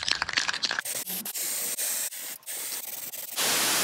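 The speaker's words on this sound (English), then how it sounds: "the areas that I'm now going to be spraying the epoxy primer on" Short hissing bursts of an aerosol can spraying epoxy primer onto a car's inner wings, several quick puffs followed by a longer continuous spray at the end, close and fairly loud.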